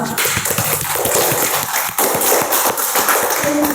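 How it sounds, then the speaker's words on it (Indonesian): A dense burst of close classroom applause for a classmate: rapid overlapping hand claps, loud and continuous, from a group of students. "Kasih aplaus dulu untuk temannya."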